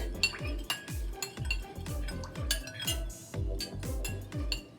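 A spoon or utensil clanks and scrapes around a bowl in a quick, regular rhythm while homemade play dough is mixed with oil, each stroke giving a low knock and a bright clink, close and fairly quiet.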